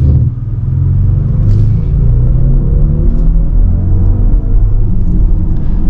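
A 2023 BMW iX M60i drives through corners with a loud continuous low rumble, its pitch rising and falling a little as it accelerates, and no talk is heard.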